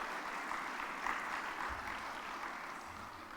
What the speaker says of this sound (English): Give yourselves and your parents an almighty round of applause.